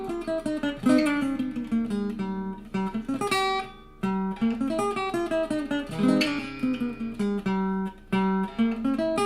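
A diminished-scale lick on a Loar LH-300 archtop guitar, heard alone as a quick run of picked single notes and short note clusters moving up and down, with brief pauses between phrases.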